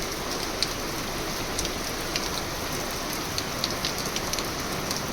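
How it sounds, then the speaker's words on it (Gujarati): A downpour of monsoon rain in a Gujarat village near Jetpur, a thick unbroken roar of drops striking the ground and roofs, steady and close, with a few brighter spatters standing out. "ધોધમાર વરસાદ ચાલુ જ છે હજી."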